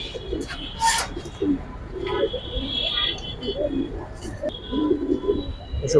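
Giribaz and racer pigeons coo in low, repeated bursts through a pigeon loft, with brief higher chirps and rustling over a steady background, and people talking now and then.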